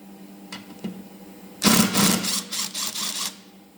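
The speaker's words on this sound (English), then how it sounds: "using the same 10mm socket, remove the 2 bolts holding the brake in place" A 10mm socket wrench ratchets off bolts holding the engine brake on a Honda mower, with two faint ticks first, then a loud, close burst of rapid ratchet clicking in several short runs.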